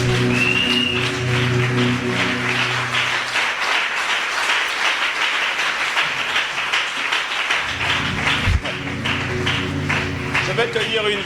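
A church congregation applauding and cheering, a loud continuous rattle of clapping with voices mixed in, sustained throughout and alone without a single speaker on top.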